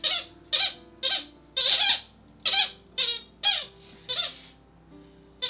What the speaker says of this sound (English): Willow, I know they love your squeaks, but you're right in Mommy's ear.